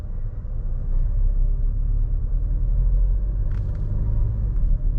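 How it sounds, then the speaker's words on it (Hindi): A 2021 MG Astor turbo with automatic gearing accelerates, heard as a loud, steady low engine and road rumble from inside the cabin, with no talking. "अब एक्सीलेटर देते हैं।"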